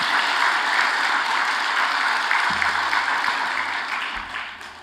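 Church congregation applauding during a Sunday evening worship service, a steady dense wash of clapping that fades slightly toward the end, with a few low thumps mixed in.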